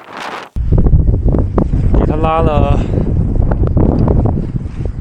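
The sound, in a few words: strong wind on a snowy plateau lake while pitching a tent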